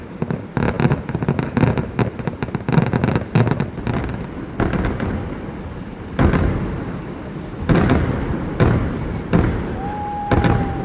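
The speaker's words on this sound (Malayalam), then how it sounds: "വേറൊരു സ്പോട്ടൊക്കെ കണ്ടുപിടിച്ച് വെടിക്കെട്ടിന് വേണ്ടിയിട്ട് വെയിറ്റ് ചെയ്തു" Dawn fireworks at the Thrissur Pooram festival in Kerala: loud, rapid volleys of bangs and crackling bursts come in waves, with short pauses between clusters and a rising whistle near the end.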